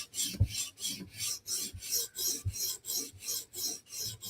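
A steel Wharncliffe knife is drawn across a stone on a TSProf Kadet sharpener in even, regular rasping strokes, about eleven close quiet passes with no talk.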